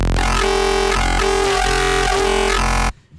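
A thick, buzzing wavetable synth saw tone, the Dying Saw wavetable, sustains loudly with a slowly shifting, gritty timbre, pulsing faintly before cutting off abruptly near the end.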